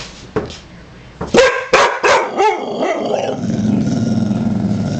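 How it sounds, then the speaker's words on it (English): A dog barks several times in sharp bursts, close up, then settles into a low growling rumble. "Are you barking at the camera?"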